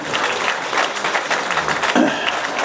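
An audience bursts into close, loud applause, a thick continuous patter of many hands that holds steady, with a brief thump near the end.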